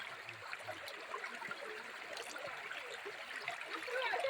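A river in the dense Bastar forest flowing in a steady broad rush and trickle, continuous and close, with no voices over the water.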